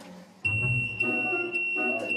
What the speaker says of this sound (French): L'alarme.